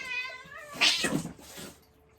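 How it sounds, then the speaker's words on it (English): Two cats caterwaul at close range, a drawn-out wavering yowl that flares into a harsh, hissing burst before trailing off. "cats that are fighting"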